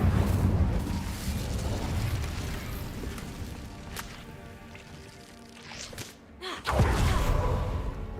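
A fire spell cast in a wizarding video game, a roaring whooshing burst with a sharp crackling flare near the end, loud and close with no talk over it.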